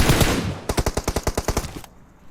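A rapid burst of automatic gunfire in the mobile game PUBG Mobile, roughly a dozen sharp, evenly spaced shots fired close and loud after a brief wash of noise, then cutting off abruptly.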